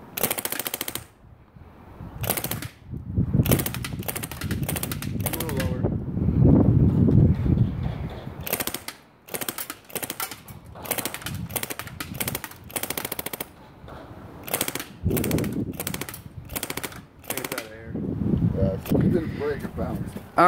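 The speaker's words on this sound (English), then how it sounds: "Mr. Creeperino, fire at will." An airsoft gun fires at an Acer computer, crackling in rapid automatic bursts and single pops across a long stretch, with brief gaps between volleys.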